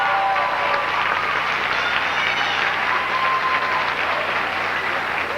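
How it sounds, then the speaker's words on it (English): A pageant audience at Miss Illinois 2002 applauds the contestants with steady, full clapping that stays loud and even throughout. "Please give them another round of applause."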